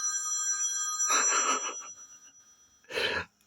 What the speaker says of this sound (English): The phone is... Can you hear the phone?